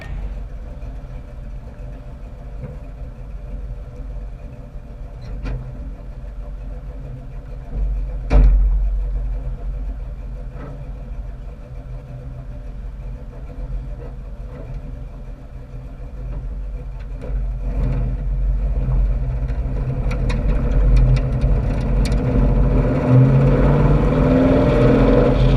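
Engine of a 1967 Ford Mustang Fastback with a lean stumble, driving on a road: a steady low rumble runs throughout, with a thump near the eighth second and the engine swelling louder over the last stretch.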